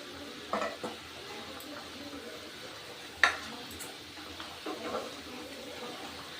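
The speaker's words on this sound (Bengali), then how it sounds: "আমি আবার একটু নাড়া দিয়ে দিচ্ছি" A pot of Bengali fish curry broth bubbles on the stove while a spoon stirs it, giving a few soft scraping clinks over a quiet, steady simmer.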